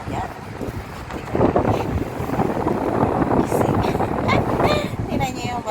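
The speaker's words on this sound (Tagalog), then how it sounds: "Para masabi ko sa inyo malakas ang hangin." Strong wind buffets the microphone in a constant heavy roar and rumble, with faint voices mixed underneath.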